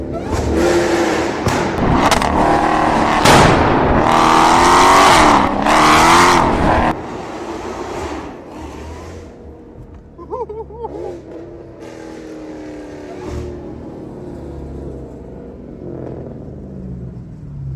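A Dodge Hellcat roars loudly through a city tunnel, its engine revving hard and echoing for several seconds before dropping to a lower rumble, with a voice briefly heard over it.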